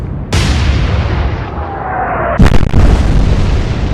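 Naval gun salvos fired in the warship game Atlantic Fleet during a battle with the Graf Spee: two loud, heavy booms, each trailing into a long rolling rumble, with a thin falling whistle between them.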